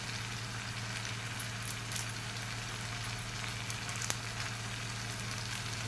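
Goat head curry simmering in a pan, a steady close sizzle and bubbling hiss with a constant low hum underneath and a few faint crackles.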